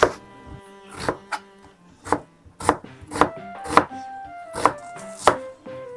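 A kitchen knife chops an onion on a cutting board, roughly ten sharp knocks in a steady rhythm, close and clear, with no talking.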